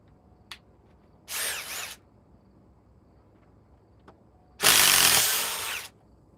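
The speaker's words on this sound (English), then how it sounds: "Let's jump up to the Ryobi." A Ryobi power drill rated at 2,200 inch-pounds runs in two close bursts, a short one of about half a second and a longer one of over a second, separated by quiet with faint clicks.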